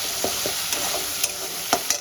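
Spice paste frying in oil in a pan, with close, repeated spatula scrapes and stirring strokes over a steady bright sizzle; no talking.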